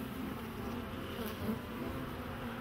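Honey bees buzz at an open beehive during a colony inspection, making a dense, steady hum of many insects close by with no other sounds.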